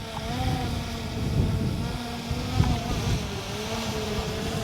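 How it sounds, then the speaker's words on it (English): Steady wind buffeting the microphone with a low rumbling roar, mixed with the droning motor hum of a DJI Mavic Air 2 drone that persists throughout. "Man, it's windy now."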